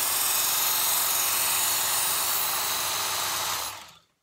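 A Work Sharp belt sharpener runs steadily as a knife blade is drawn lightly across the moving belt, a loud continuous motor whine with abrasive hiss lasting several seconds before cutting off abruptly.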